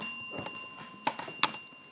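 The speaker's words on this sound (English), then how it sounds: "that is the bell signifying the end of the round and the end of today's match" A bell rung to mark the end of a round at a televised junior school quiz match. Two or three sharp metallic rings stand out over a steady room hum, clear and fairly near, with no talk over them.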